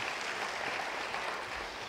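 Church congregation applauding during an online Sunday service, a steady, faint wash of clapping that holds for a couple of seconds without a break.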